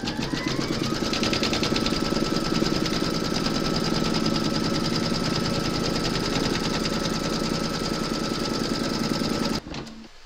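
An embroidery machine stitches an appliqué securing round on a hooped Mrs Claus design, running as a steady, dense, rapid mechanical whir that stays level throughout and cuts off abruptly near the end.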